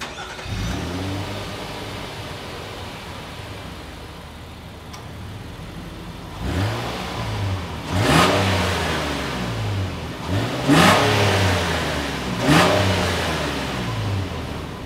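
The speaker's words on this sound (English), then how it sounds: "As always, here is that exhaust clip." Exhaust of a 2022 Nissan Pathfinder SUV, heard from outside: the engine idles, then gives several separate throttle blips. Each rev rises and falls sharply, and there is no talking.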